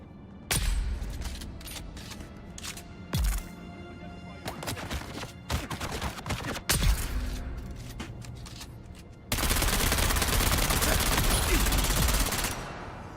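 Bursts of video game gunfire from a newly picked-up gun: scattered single shots, then a sustained rapid automatic volley near the end, loud and close.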